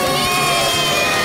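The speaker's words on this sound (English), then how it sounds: "Give a big round of applause!" An audience cheers and shouts at a game-show style contest as the season winner is announced, a loud, continuous crowd roar with high excited voices for about a second.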